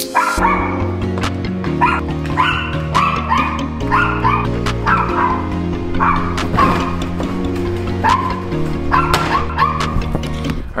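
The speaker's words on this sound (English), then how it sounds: "Our neighborhood protective dog." A neighbourhood dog barks repeatedly in short bursts with yips and whimpers, close and loud, over a steady low hum in the background.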